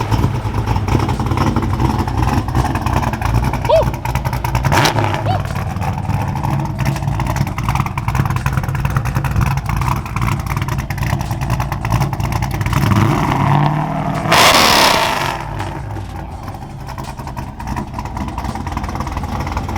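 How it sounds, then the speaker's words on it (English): Ford Foxbody Mustang with big cams and a four-eye front end, its engine idling loud and choppy up close, with a couple of sharp revs, one strong surge near the end before settling back. "You can hear those cams."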